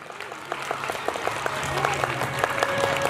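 A crowd at a primary school gathering in Dhanej claps in a rhythmic, building round of applause, with some voices murmuring underneath.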